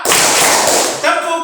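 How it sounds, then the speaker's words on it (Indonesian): Children clapping hands together in a classroom rhythm exercise, a close burst of claps that briefly pauses and resumes, with voices mixed in. "Tepuk tangan satu. Tepuk tangan dua. Tepuk tangan tiga."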